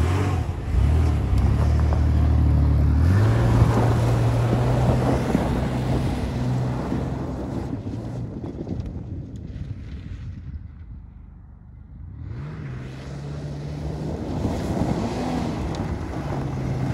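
A Chevy Blazer driving with a loud, continuous engine drone and heavy road and wind rush, the engine note rising and shifting, easing off briefly midway, then building again.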